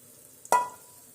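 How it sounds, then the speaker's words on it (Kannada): Hot oil left from frying eggs poured into a pot of boiling water for egg biryani, giving one sudden sharp sizzling hiss that fades within a fraction of a second, with no talking. "ಈಗ ನೋಡ್ರಿ ಫ್ರೆಂಡ್ಸ್ ನಾನೀಗ ಎಗ್ ಅಗಳೆ ಫ್ರೈ ಮಾಡಿದ್ದಲ್ರಿ ಅದ ಎಣ್ಣಿನ ಇದಕ್ಕ ನಾನು ಹಾಕಾಕತ್ತೇನೆ ನೋಡ್ರಿ ಫ್ರೆಂಡ್ಸ್."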